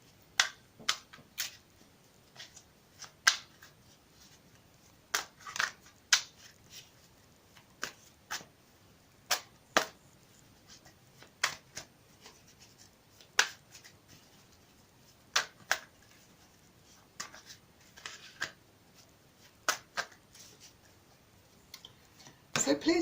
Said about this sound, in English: I'll shuffle it for you again on camera, and I'm using the Modern Witch Tarot deck.